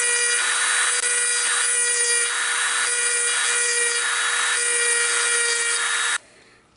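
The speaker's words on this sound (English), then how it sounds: "the carbide burr, you better have some experience at using them before you go digging into something with it, because it removes a lot of material fast." A Dremel rotary tool fitted with a carbide burr grinds into material during a Remington 870 Nordic magazine extension install. It gives a loud, steady, high-pitched whine for about six seconds, close up with no talk, then cuts off abruptly.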